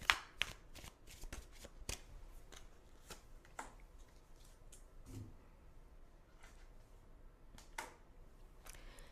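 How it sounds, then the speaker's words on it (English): Tarot cards being shuffled by hand, a run of crisp riffling flutters and soft snaps, loudest at the start then continuing as quieter, steady shuffling close up with no talk. "let's choose a card for an affirmation for the day"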